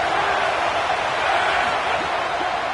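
Football stadium crowd at a Notre Dame versus Florida game roaring steadily behind the defense on a big third down, a dense, sustained wash of cheering with no break.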